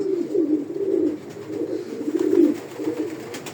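Pigeons cooing loudly in a steady, overlapping murmur inside a pigeon loft, several birds close by, with a low rolling rhythm and no talking.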